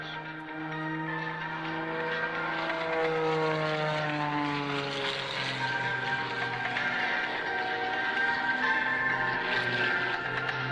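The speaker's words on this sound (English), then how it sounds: "As Sean approaches zero forward airspeed, watch for the application of hard, full left rudder as Sean completes not one, but 2 consecutive hammerhead turnarounds" An aerobatic propeller plane performs consecutive hammerhead turns at the 2003 Dayton airshow, its engine giving a loud, sustained droning roar whose pitch rises and falls with the maneuvers, with no voices.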